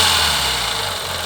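An Audi 1.8T engine runs with a rough, diesel-like clatter, a steady, loud, close drone held for about a second.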